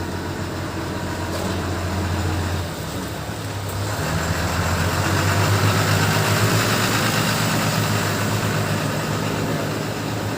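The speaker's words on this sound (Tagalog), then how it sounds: "Wait lang kasi may truck." A truck engine idles close by outdoors, a loud, steady low rumble and drone that swells slightly louder midway and holds on to the end.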